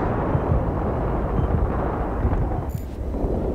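Grenade explosions in the Battlefield 3 multiplayer video game, dense rumbling blasts rolling one into another at close range, loud and continuous with no talk.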